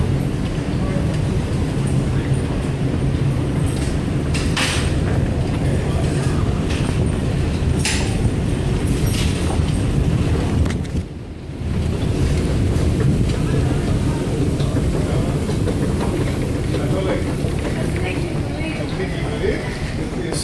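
A London Underground Jubilee line train rumbles loudly and continuously at a platform, with a brief dip in the noise partway through and a voice speaking over the din.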